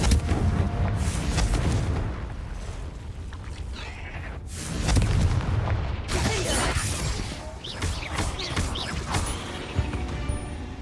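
Repeated Confringo fire spell blasts cast in a cave in Hogwarts Legacy, heavy booming bursts with crackling and rumbling debris over a continuous loud game soundtrack, several impacts across the stretch.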